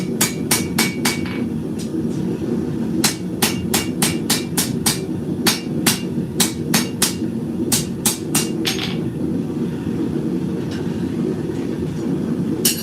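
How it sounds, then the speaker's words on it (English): A hammer forging the bevel on a blade, striking in quick rhythmic runs of sharp metallic blows with short pauses, loud and close over a steady roaring background hum, with no speech. "we're going to start to forge the bevel here"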